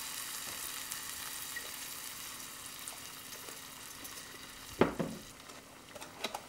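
Onions sizzle steadily in a pot as three tablespoons of white wine vinegar go in, with a sharp, loud hiss near the middle that fades into quieter crackling and a few later spits.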